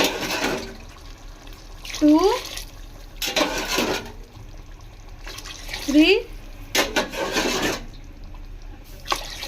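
Glassfuls of water poured into rice for a home-style mutton biryani, several separate splashing pours in bursts, fairly close, with a person counting and talking between them.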